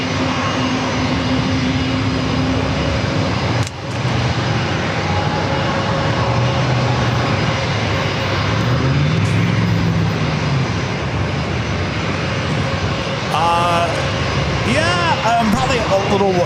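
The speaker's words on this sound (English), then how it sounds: "And does Air Canada Airbus A220-300 up next, followed by that Spirit A320 flight heading to Vegas." An Air Canada Airbus A220-300 jet at San Diego airport gives a loud, sustained engine roar that stays continuous throughout, with a brief thump near the start and shifting tonal whines later, while a person talks over it.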